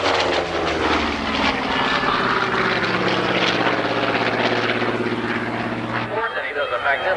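A Grumman F8F Bearcat fighter flies at the Harlingen airshow, its loud piston engine droning with a shifting pitch as it passes and then cutting away abruptly near the end. A commentator speaks over the engine noise.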